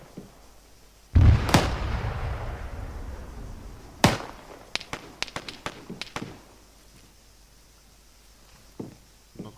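Gunfire from a nearby player in a military-style airsoft operation, a loud boom followed by a burst of sharp cracks and a few scattered later shots, fairly close, with no talk.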